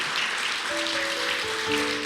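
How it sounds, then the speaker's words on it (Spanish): A church congregation applauds during a service in a brief, steady burst of dense clapping. Faint sustained tones sound underneath. "Démosle ese aplauso al Señor."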